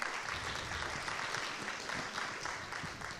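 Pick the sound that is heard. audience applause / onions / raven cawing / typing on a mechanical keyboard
audience applause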